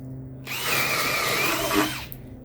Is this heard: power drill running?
yes